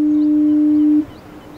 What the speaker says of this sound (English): And none more so than the foghorn and lighthouse of Cape Race.